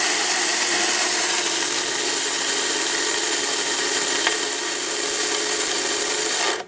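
A Blendtec blender running on low grinds dried prickly pear skins and seeds, a loud, continuous gritty whirr that holds steady for several seconds before stopping abruptly.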